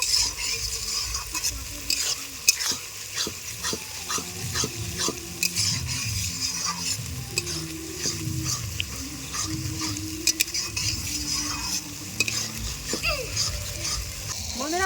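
Turmeric-laced spice paste stirred and fried in a pot for a home-cooked chicken curry at an outdoor Christmas picnic, with steady sizzling and repeated scraping strokes throughout, close and fairly loud.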